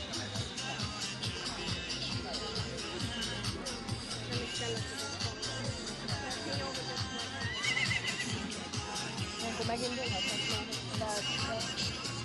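Horses at a village festival event in Csetény neigh amid rhythmic hoof clip-clop and crowd noise, while people talk over the action throughout.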